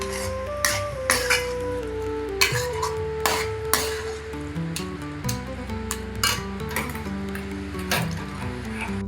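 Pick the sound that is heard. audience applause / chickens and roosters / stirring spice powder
stirring spice powder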